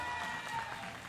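A crowd cheers and applauds at a men's junior 25m rapid fire pistol shooting competition, a steady, dense wash of clapping and cheering held at an even level for about a second.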